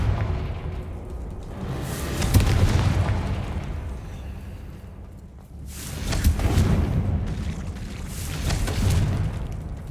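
Confringo blasting spell explosions in the Hogwarts Legacy video game: deep booming blasts with rumbling tails, one around the middle and another later, loud and near, with no talk.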